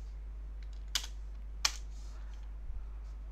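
A command is typed on a computer keyboard, a few sharp isolated key clicks including a firm Enter press, close and quiet over a steady low hum, with no talking.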